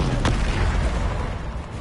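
Bombarda spell explosion in Hogwarts Legacy, a single loud booming blast with a sharp crack at the start that rumbles and fades over about two seconds.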